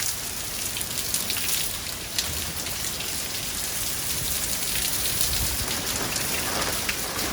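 Heavy rain pours steadily during Tropical Storm Gamma in Mexico, a dense, constant hiss of drops drumming on surfaces at close range, loud and unbroken for the whole stretch with no voices.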